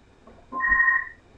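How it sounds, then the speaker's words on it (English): A telephone rings once, a short electronic tone lasting about half a second, clear against a quiet room. "oh God, no, the phone's gonna ring."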